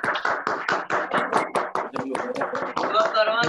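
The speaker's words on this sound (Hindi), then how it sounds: "जोरदार तालियों से स्वागत करेंगे।" An online audience greets Satish ji with rapid, irregular clapping from several participants over a video call, the claps crisp and close, with a voice joining near the end.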